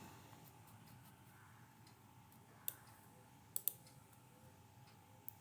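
A computer mouse clicks a few times, sharp and isolated, while a tab colour is picked in the Google Chrome browser, over a faint steady hum.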